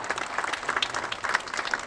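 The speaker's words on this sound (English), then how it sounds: "so give them a big applause" A plenary session audience claps in a brief, dense burst of applause, many hands together at steady loudness for under two seconds.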